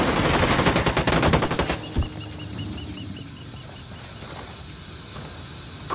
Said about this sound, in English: Roger. Opening fire.